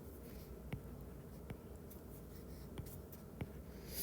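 Faint scratches of a pen writing numbers by hand during a synthetic polynomial division lesson, with a few brief ticks over steady low room hiss.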